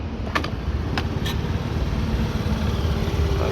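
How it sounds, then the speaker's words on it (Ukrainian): A Honda Dio AF68 fuel-injected scooter engine idles steadily nearby, a low continuous rumble with a few brief clicks early on. "Двигун працює ідеально."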